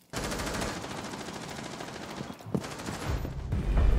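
Gunfire in a ranked Rainbow Six Siege match, a rapid automatic burst of shots lasting several seconds, fairly faint and close, followed by a few thumps and impacts.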